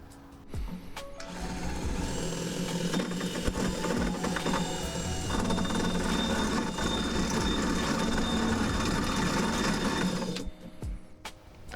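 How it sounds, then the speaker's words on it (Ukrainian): A cordless drill with a hole saw bores through the floor of a Citroen C8 van, grinding steadily for about ten seconds with a rattling, uneven whir before stopping abruptly. "Такою коронкою та шурпомвертом буду сверлити отвір для воздуховодів."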